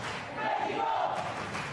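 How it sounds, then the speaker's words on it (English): A crowd at a CrossFit Open 17.4 event chants Mexico in a loud, sustained collective roar, echoing through an indoor arena for a brief stretch. "Crowd chanting Mexico, trying to urge on Brenda Castro"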